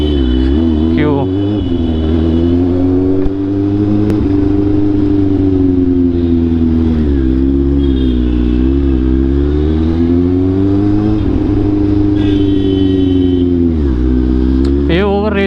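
A second-hand Kawasaki motorcycle's overheating engine revs steadily and loudly, the pitch rising and falling in long swells while someone talks over the continuous drone.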